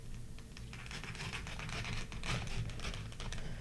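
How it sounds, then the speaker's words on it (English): Box cutter slicing into cardboard for a junk journal cover, a close run of quick scratchy rasps and taps, steady and fairly quiet, with no talking. "I'm going to get my box cutter out,"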